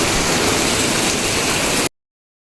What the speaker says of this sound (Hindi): ये देखिए कितनी तेज़ बारिश हो रही है।